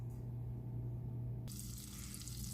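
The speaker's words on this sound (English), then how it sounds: "I got butter already in the skillet, warming up" Butter melts in a skillet on its own, giving a soft, steady hiss and sizzle under a low hum, growing brighter and fuller partway through.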